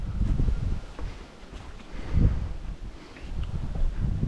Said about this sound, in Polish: Bo tak wieje, że połowa to by mi zwiała.